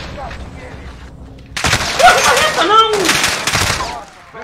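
Bursts of video game gunfire, a few rapid shots and short volleys, with a voice talking over the action.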